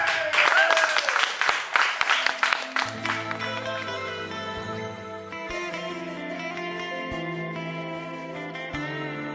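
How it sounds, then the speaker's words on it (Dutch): Studio audience at a Limburg TV music show applauding loudly for a few seconds, then the clapping fades as a song's instrumental intro begins. "Uw applaus"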